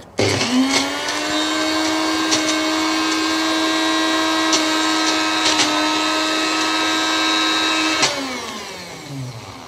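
A mixer grinder with a small jar blends beetroot and henna powder with a little water into a paste. The motor whirs loud and steady for about eight seconds, then winds down near the end.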